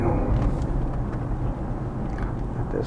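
A car passing by on the road, a steady low rumble of engine and tyres heard close with some wind over it, fading slightly partway through.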